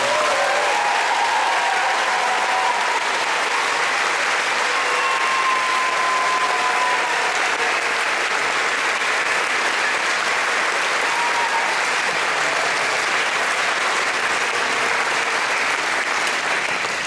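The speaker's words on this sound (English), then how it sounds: "let's give everybody a round of applause" Long, sustained applause from a talent show audience, a thick wash of many hands clapping at steady loudness throughout, with faint cheers and voices rising briefly through it.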